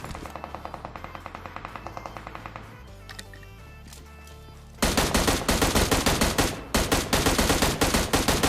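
Dense bursts of automatic gunfire in a battle royale video game, an M16 rifle among the weapons, rattling rapidly at first, pausing, then erupting louder and nearly continuous with short breaks, with no talk.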